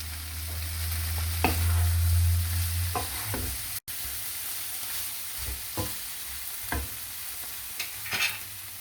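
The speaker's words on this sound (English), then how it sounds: "Now add the chopped tomato or tomato puree. Fry for 2-3 minutes." Chopped tomato fries for a mutton curry, a continuous sizzling hiss punctuated by periodic scraping and tapping of a spoon as it is stirred, close and steady with no talking.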